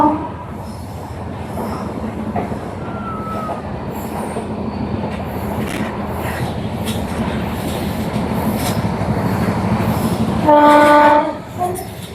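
A train runs along the Thiruvananthapuram–Nagercoil line toward Eraniel station, with a steady rolling rumble and rail clatter from on board, then a loud train horn blast near the end.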